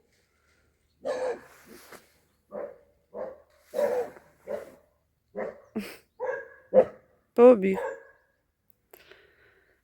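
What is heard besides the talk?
dog barking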